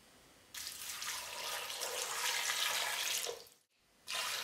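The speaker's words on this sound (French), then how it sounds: "On va rajouter 2 litres d'eau." Water pours steadily from a tap into a soup pot for chorizo soup. It is a close, rushing stream that starts abruptly, runs for about three seconds, stops briefly and then starts again, with no talk.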